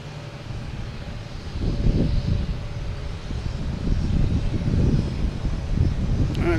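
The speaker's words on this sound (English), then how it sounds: "That JetBlue to Cleveland, just taking off now, an A220, flight 1341." A JetBlue Airbus A220 taking off at Boston Logan Airport, its engine roar building to a broad, steady rumble in the middle distance with some wind buffeting the microphone.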